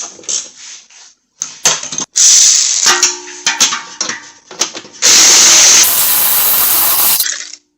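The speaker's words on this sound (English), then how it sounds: "There might be enough room to get my electric ratchet up there." Short bursts of an electric ratchet work on the receiver-hitch bolts of a 2021 Jeep Wrangler Rubicon, loud and close, with stop-start whirring and clicks and a longer sustained run near the end.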